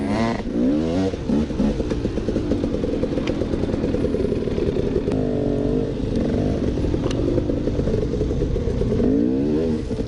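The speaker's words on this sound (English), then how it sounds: "the bike that he's riding is actually the bike that Graham Jarvis used" Dirt bike ridden along the Yellow Trail at Red River Motorcycle Trails, a machine once used by Graham Jarvis; its engine drones and revs continuously throughout, close and loud, with rising and falling pitch as the throttle changes.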